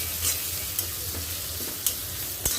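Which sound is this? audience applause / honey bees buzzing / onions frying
onions frying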